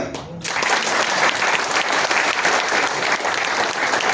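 An audience at a religious talk breaks into loud, dense applause after a brief quiet moment, the clapping sustained and close for several seconds.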